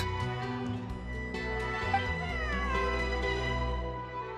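A cat in the video game Genshin Impact meows several times over a steady, prominent backdrop of layered, sustained in-game music with a gliding melody.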